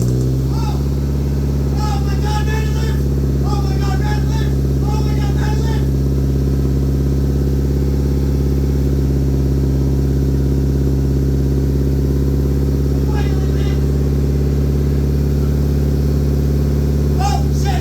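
A Mitsubishi Evo 8 engine running after five years off the road, following a crank angle sensor fix; a loud, steady, close idle drone holds throughout, with faint higher chirps now and then.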